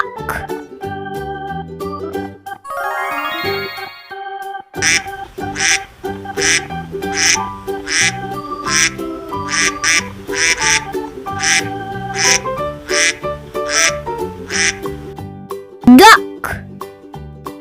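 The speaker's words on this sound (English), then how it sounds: "Duck." Repeated duck quacks, a farm duck sound in a children's farm animal vocabulary set, recurring in a steady rhythm with musical backing and a child-like voice present.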